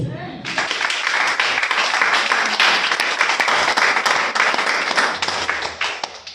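A church congregation at a worship service breaks into sustained, dense applause, with many hands clapping steadily for several seconds, loud and close, with scattered voices mixed in.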